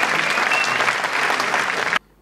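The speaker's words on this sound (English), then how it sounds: "So I think a good round of applause for our children." Loud, dense applause from a large audience for students at a school annual concert, a sustained roar of clapping that cuts off abruptly near the end.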